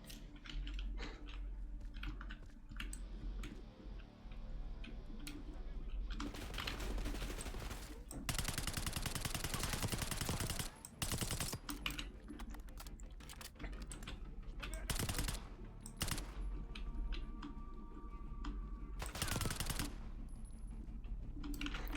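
Gunfire in the Black Ops 6 campaign on hardest difficulty: bursts of rapid automatic shots, some rounds punching through light cover. Dense volleys come in waves over a steady background, with a voice talking underneath.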